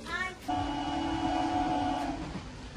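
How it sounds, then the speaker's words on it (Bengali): A train rumbles into a station with a steady low drone and a sustained horn-like tone, fairly loud and continuous, with no talking. "ট্রেন ঢুকছে।"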